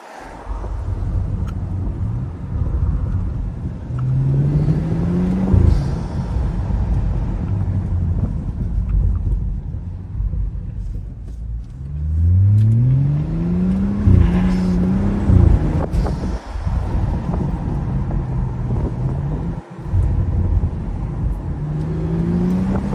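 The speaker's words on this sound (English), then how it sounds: "Crazy sounding car." A BMW N55 car engine revs repeatedly while driving, pitch rising and falling through gear changes, loud and close over steady road noise.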